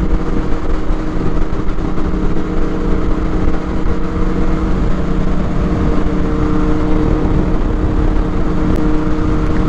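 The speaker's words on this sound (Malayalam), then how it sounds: "and this was A triumph speed triple 1050 with അഗ്രാപോവിക് exhaust" A Triumph Speed Triple 1050 fitted with an Akrapovic exhaust runs loud and steady on a ride in Goa. The engine drone is constant, mixed with rushing wind, with no clear gear changes.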